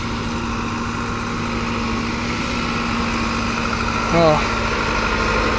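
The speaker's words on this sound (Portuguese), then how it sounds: "eu tô ouvindo o barulho do trator" A tractor engine idles steadily in a sorghum field, a low, even drone heard at moderate distance. A voice briefly speaks near the end.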